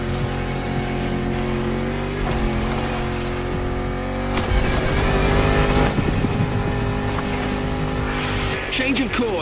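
A Land Rover Defender with 400 horsepower roars through The Crew Motorfest, its engine droning loud with shifting pitch and tire noise, under a voice speaking.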